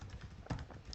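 Typing on a computer keyboard while entering an SQL query, a quick cluster of soft key clicks with one louder tap near the middle, close and alone.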